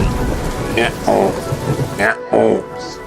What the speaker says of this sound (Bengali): বৃষ্টি আসছে, আমি ভিজে যাব।